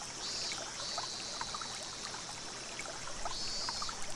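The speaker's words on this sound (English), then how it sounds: "Ah, more babbling brooks. I love this sound." Babbling brook ambience in the Higurashi When They Cry visual novel, a steady close trickling and burbling stream with soft bright splashes, continuous and even, with a faint high insect-like whine drifting over it.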